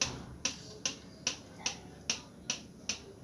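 Gun 6 cord manjha kite string is plucked by hand, giving about eight crisp, evenly spaced snapping twangs that are faint and close, with no talking.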